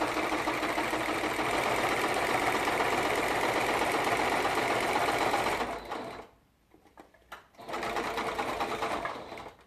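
A sewing machine stitches a large quilt-as-you-go quilt border in a fast, even, loud buzz. It stops briefly and then starts again, with a faint voice during the pause.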